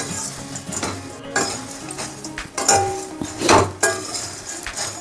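Puffed rice is dry-roasted in a pan, with repeated metallic scrapes, clinks and rattling taps of a utensil against the pan in an uneven rhythm, close and fairly loud.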